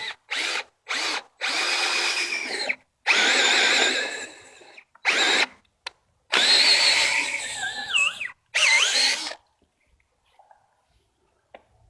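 A power drill with a sharp bit bores a brace mortise in a timber-frame tie beam, sounding as a series of loud whining bursts of varying length that stop in quiet near the end.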